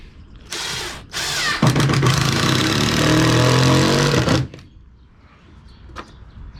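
An impact gun drives screws into pressure-treated porch boards: a short burst, then a longer loud, rattling hammering run that stops abruptly, followed by quiet outdoor ambience.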